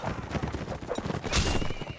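A horse gallops with rapid clip-clop hoofbeats and lets out a whinny in a video game, the hooves loud and close amid other game noise.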